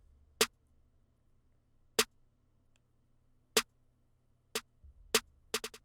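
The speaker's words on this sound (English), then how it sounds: "Basically, it's just a typical clap slash snare pattern" Sparse clap and snare hits programmed in FL Studio, sharp isolated transients spaced irregularly across the bar, with a quick flurry of extra notes near the end, clean and loud over a faint low hum.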